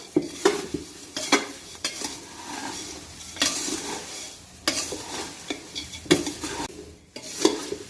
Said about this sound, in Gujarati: હવે આપણે આને સરસ સારી રીતના બધું મિક્સ કરી લેવાનું છે આ રીતના